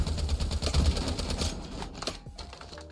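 Rapid gunfire during a gunfight in the video game Lost Light, a dense, fast burst of cracking shots that thins out toward the end, loud and close.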